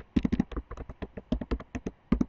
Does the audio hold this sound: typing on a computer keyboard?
yes